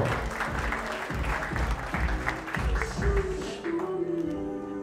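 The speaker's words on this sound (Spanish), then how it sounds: "¿qué pasó con esos aplausos? ¡Que se escuche bonito!" A crowd claps warmly at a quinceañera celebration, loud dense applause with a steady rhythm that thins toward the end while a low musical tone hums underneath.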